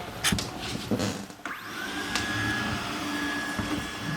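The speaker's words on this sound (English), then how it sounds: "So it does work, the robot hoover." A robot vacuum cleaner runs in a home with rabbit fur and hay on the floor, giving a steady close whir with a thin high whine and a few knocks and clatters early on.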